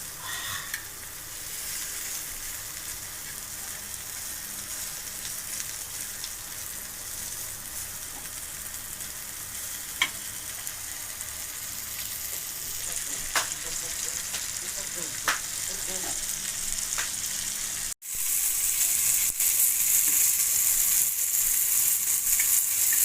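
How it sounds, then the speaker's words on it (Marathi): Prawns stir-fry in hot oil on a tawa, giving a loud, steady, continuous sizzle with scattered crackles and pops that grows a little louder near the end. "तेल चांगलं तापलं त्यामुळे फळाफळा परतून घेतो आहे"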